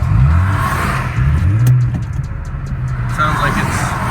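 BMW E36 M3 engine running with a slight misfire on a night street, a low uneven rumble with brief revving swells beneath people talking.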